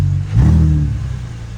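A Mercedes-Benz car sitting in a drive-thru gives a short, throaty engine rev that rises quickly, then settles back to a steady idle rumble, heard close up.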